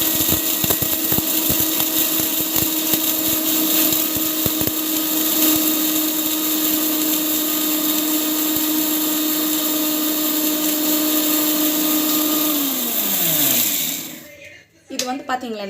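A kitchen mixer grinder whirs loud and steady as it grinds ingredients into a fine powder for a homemade hair-growth oil, then winds down and stops near the end.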